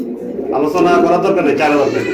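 Pigeons cooing at a pigeon market, a close, rolling throaty coo with a voice speaking over it.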